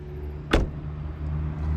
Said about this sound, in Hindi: ये पूरा दरवाज़ा बंद हो रहा है